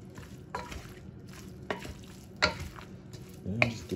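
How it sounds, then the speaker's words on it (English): Fried cabbage and beef sausages stirred in a pan, soft sizzling with a few sharp spatula scrapes and knocks spaced over a few seconds, fairly quiet and close. "And just give it a good stir."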